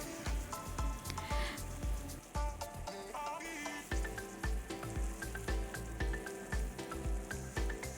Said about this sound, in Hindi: और फिर हम ऊपर से डालते हैं थोड़ा सा चॉकलेट सॉस, ताकि अच्छे से इसका सिजलिंग इफेक्ट आए